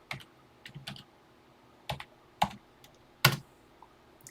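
Keys on a TI-99/4A computer keyboard are struck in short separate bursts, a few quick clicks, then pauses, then a firmer press near the end, close and quiet in a still room.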